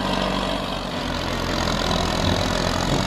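A tractor engine under added throttle pulls a disc plough on land-levelling work, a loud, continuous, close diesel drone that holds steady without dropping.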